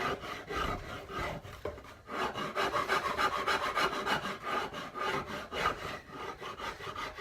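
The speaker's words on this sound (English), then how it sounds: "All I'm going to do is run it like a normal rasp." A coarse wood rasp files a carved dragon walking stick in steady, continuous strokes, a loud rough scraping that pauses briefly around two seconds, then resumes in a rhythmic push-pull, close up with no talk.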